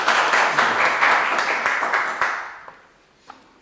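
Audience applause welcoming a speaker at a political communication forum, a brisk burst of many hands clapping that fades out over the final second, leaving a few scattered last claps.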